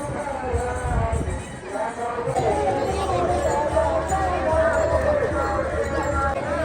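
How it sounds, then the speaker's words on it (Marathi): Steady hubbub of a growing crowd of pilgrims at the Alandi palkhi procession, continuous babble and movement with someone talking over it. "भावनो आता गर्दी वाढत आलेली आहे."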